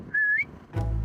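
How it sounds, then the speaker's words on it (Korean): A person whistles a short, clear rising note at a sheep outdoors in Ireland, followed moments later by a brief low bleat-like sound with some background noise. "양에게 휘파람을 불어봤는데 신기하게 반응을 한다"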